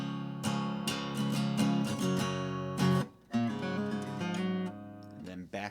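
Guitar picks out a song intro as a run of quick plucked notes and chords, close and moderately loud, with a brief pause midway before the pattern resumes.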